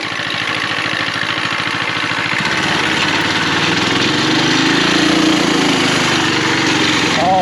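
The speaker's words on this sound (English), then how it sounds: "Got a bog on it now." A vehicle engine under load during a torque converter tuning test on a 30 Series, droning steadily and loudly with a low rumble that shifts pitch partway through as the engine bogs down.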